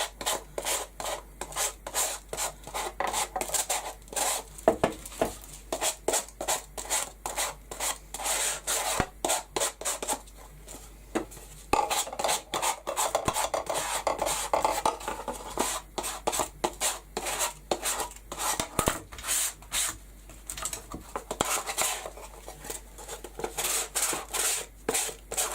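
Sandpaper or a rasp distresses the edge of a wooden frame, a close, dry rubbing in quick uneven strokes repeated steadily with brief pauses, no talking.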